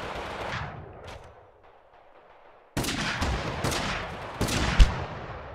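Shotgun blasts in the video game Totally Accurate Battlegrounds: a sharp report that fades, then after a pause a run of several loud, close shots in quick succession.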